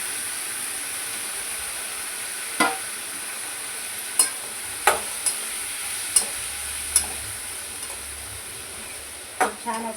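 Whole spices like black pepper, cloves, cinnamon and bay leaf roasting with onion in a pan, a steady soft sizzle and hiss broken by occasional sharp clinks of a spoon stirring, nobody talking.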